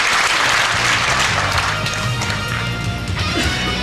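Warm applause from a tournament crowd at a 1995 World 8 Ball Championship pool match, a steady dense clapping that fills the hall throughout with a few sharper claps standing out.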